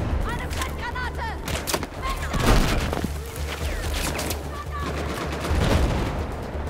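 Gunfire in Battlefield 4 comes in loud, repeated bursts of rapid shots with heavy thumps and booms layered over a dense battle din, while voices talk over the action.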